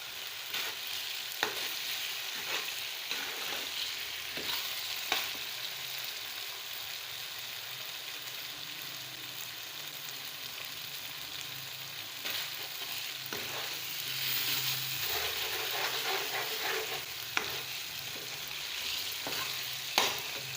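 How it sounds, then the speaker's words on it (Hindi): Mustard greens saag fries in a pan and is stirred throughout, a continuous close sizzle broken by repeated scraping strokes and occasional clinks, with no voices. "ये देखें, अब इसको 1 से 2 मिनट फ्राई करेंगे"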